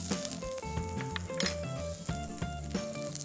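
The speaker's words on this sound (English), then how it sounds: "So we first just grill the broccoli." Broccoli sizzles steadily on a grill with a smear of Nutralite garlic oregano spread, a close, continuous frying hiss broken by faint metallic clinks of utensils, with no voices.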